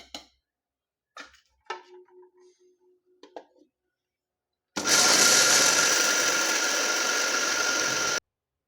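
A mixer grinder blends dried chillies, coriander, horse gram, dal, garlic, salt and asafoetida into a powder. A few faint clinks come first, then a loud, steady motor whir with rattling grinding runs for about three and a half seconds and stops abruptly.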